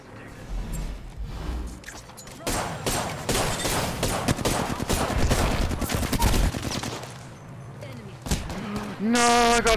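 Rapid gunfire rattles in dense, sustained bursts during an Apex Legends match, loud and continuous with impacts and mechanical clatter, and a player's voice breaks in near the end.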